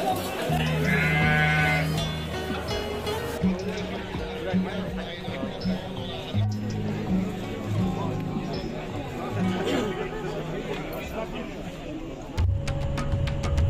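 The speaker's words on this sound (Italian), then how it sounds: "Molto caratteristico è il mercato delle capre del venerdì, che attira venditori e compratori locali e molti turisti" Goats bleat repeatedly amid a busy Friday goat market in Oman, with crowd chatter, thuds and vendors' voices layered over the calls, fairly close and lively.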